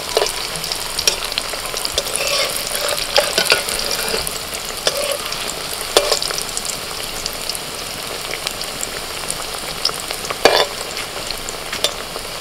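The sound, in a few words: banana flower dumplings frying in oil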